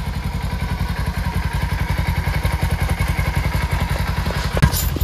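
A Kawasaki Ninja 300 motorcycle cold-started and idling up close, a loud rapid throbbing engine pulse with a rattly clatter and a brief thump near the end.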